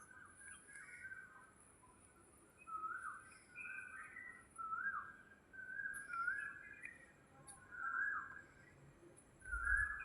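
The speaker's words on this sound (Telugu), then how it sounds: "అదొక కోయిల గానమేనండి. భూపాలం ఆలపిస్తుంది కోయిల." An Asian koel sings in the morning outdoors, repeated rising whistled calls at a moderate distance, arriving in several bursts against quiet background with other small birds chirping faintly.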